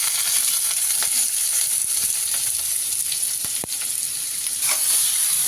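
Finely chopped onions fry in a little oil with cumin seeds, a loud, continuous close-up sizzle with a few sharp clicks and scrapes of a spatula, with no talking.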